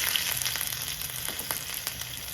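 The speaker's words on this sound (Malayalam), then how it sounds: "നമ്മളിത് അല്പം വെളിച്ചെണ്ണ ഒഴിച്ചു കൊടുത്തിട്ടുണ്ട് ഇതിലേക്ക് ഒരു ടീസ്പൂൺ കടുക് ഇട്ട് കൊടുക്കാം" Mustard seeds sizzle and pop in hot coconut oil in a pan, made in Kerala style: a steady bright frying hiss with scattered crackles throughout, close and fairly loud, with no voices.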